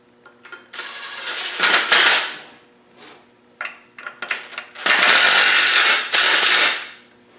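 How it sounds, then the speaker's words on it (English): An electric impact gun winds down nuts while repairing an oil leak on a white Land Rover 90 with a 300Tdi engine. It fires in three loud, rattling hammering bursts separated by short pauses. "I'm just going to wind them down with this electric gun for now."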